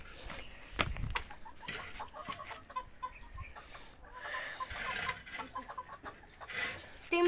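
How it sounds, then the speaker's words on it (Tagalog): Backyard chickens clucking softly at a moderate distance, with scattered short calls and rustling, some faint background noise and no talking. "Ito yung mga manok namin."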